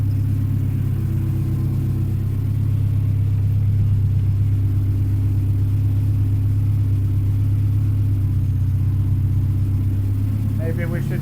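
A built engine in a rear-wheel-drive Saab 9-5 Aero running at its first startup, holding a steady, loud, deep idle rumble throughout, close by, with a brief light rev near the end.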